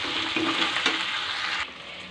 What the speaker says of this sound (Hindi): तो मसाला के साथ में 2 से 3 मिनट तक और भून लेते।